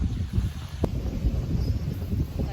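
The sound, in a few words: strong wind at sea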